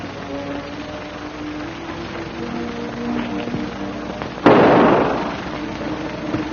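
A single sharp gunshot in a 1938 film, a sudden loud burst with a decaying tail, following quieter background music and room tone.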